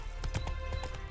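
Horse hooves galloping in The Witcher 3, a quick run of rhythmic clip-clop thuds at steady pace, close and fairly loud with no talk.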